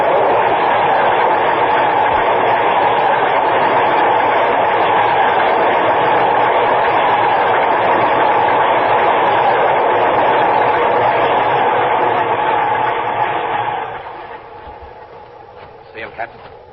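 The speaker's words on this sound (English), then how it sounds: "Get out of the way. Watch the train." A Downtown Express train rumbles past on the tracks, a loud, steady roar with rolling rattle that holds for about fourteen seconds before dropping away, leaving quieter clatter and faint knocks at the end.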